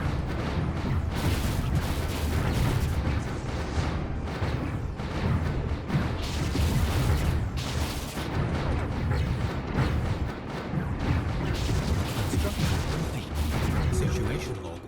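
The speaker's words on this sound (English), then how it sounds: "We've opened fire. Our lasers are engaging." Fleet laser fire rattles through a Stellaris space battle as a steady stream of booming, gunfire-like bursts that runs loud throughout, with a voice speaking over it.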